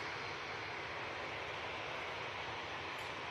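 A Logan Air Embraer ERJ 145 regional jet at Manchester Airport, its engines a steady, broad roar that holds evenly throughout with no voices.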